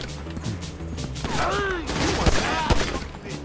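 Gunfire in GTA V on PC: a steady clatter of game shots, with several sharp, loud bursts standing out near the end, under faint background voices.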